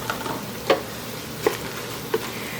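Minced garlic from a jar sizzling in a hot pan for chili, a soft steady frying hiss broken by a few faint clicks and taps of a stirring utensil.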